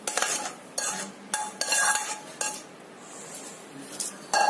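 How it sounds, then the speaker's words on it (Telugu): Mango pickle being mixed with a utensil in a bowl, giving scraping, clinking strokes in short bursts with pauses between, close and fairly loud. "మరొకసారి బాగా కలుపుకోవాలి."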